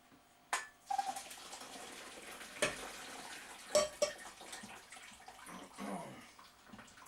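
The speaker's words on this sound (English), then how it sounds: "So just get yourself a colander. And just strain it all off." Water from boiled potatoes pours through a metal colander into a sink, a faint gushing splash with a few clanks of the pot and colander scattered across it.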